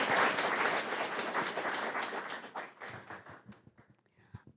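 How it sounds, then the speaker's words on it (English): Audience applause at a Montgomery Public Schools board meeting: dense, steady clapping that thins into scattered individual claps and fades out toward the end. "let's give them a round of applause"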